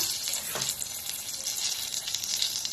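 Ground cumin-coriander paste hits hot oil and tempering spices in a pan for a cashew paneer roast, giving a steady, close, bright sizzling hiss with a brief stirring scrape near the start.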